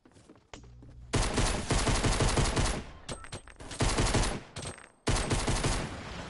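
Gunfire in Fortnite during a firefight near a house, loud rapid automatic bursts in several long volleys separated by brief pauses, no talk.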